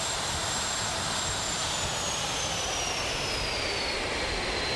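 An airplane engine from the Immersive Vehicles mod for Minecraft drones steadily and loudly throughout, a continuous jet-like roar with a slowly falling whine as the plane banks through a turn, with no talking.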